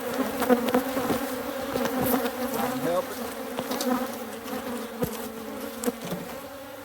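A thick, steady hum of honey bees fills the air during a honey harvest, bees swarming close around the opened hive while someone speaks briefly.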